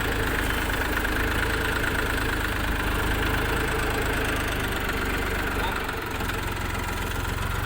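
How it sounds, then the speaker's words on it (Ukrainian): A DongFeng 244 mini tractor's small diesel engine idles steadily up close, a constant low rumble with rhythmic knocking; a voice speaks faintly underneath. "Відвантажимо тракторця Донфен 244."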